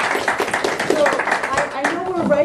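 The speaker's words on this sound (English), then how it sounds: "And another round of applause." Audience applause after a talk at a community presentation on aging among Southern Labrador Inuit, steady clapping from a roomful of people with voices mixed in underneath.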